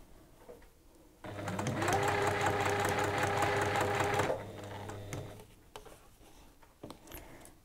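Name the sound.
sewing machine stitching fabric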